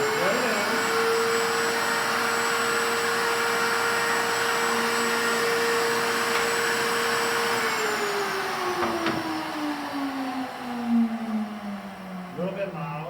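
A table-mounted router, fitted upside down beneath the table, runs with a loud steady whine that holds level and then winds down in pitch near the end, close and continuous.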